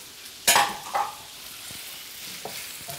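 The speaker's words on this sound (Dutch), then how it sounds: "Ga ik even door met roeren." Tomato, pepper and other vegetables for a chorizo paella fry in a pan, with a soft steady sizzle punctuated by a couple of sharp scraping stirs near the start.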